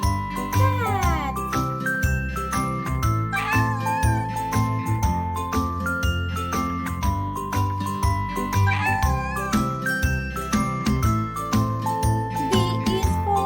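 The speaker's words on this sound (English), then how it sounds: "C is for cat." A cat meows over a jingling, tinkling backing of music in a children's alphabet learning song, the meows recurring through a busy, steady musical bed.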